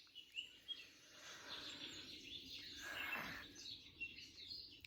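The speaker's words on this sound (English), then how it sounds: "there's birds on the TV and they eat this orange fruit" Birds chirping from a television, scattered faint tweets and short calls over a soft hiss, fairly distant and quiet.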